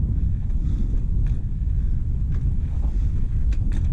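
Strong wind roaring across the microphone during an outdoor ride on a 20-inch bicycle, a loud, steady, low buffeting rush with brief gusty flutters and no voices.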